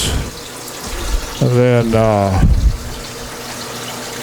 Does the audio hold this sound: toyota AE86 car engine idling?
no